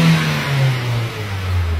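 Ford Fiesta petrol engine with a cylinder misfire, revved up and held at high rpm, a loud close steady drone with a slowly falling pitch and no talk over it.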